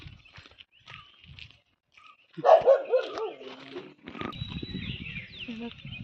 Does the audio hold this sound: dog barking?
yes